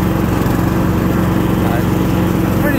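A Sears Craftsman hydrostatic riding mower with a tired Briggs 15hp engine runs up close, a loud steady chugging drone throughout, with a voice talking faintly underneath.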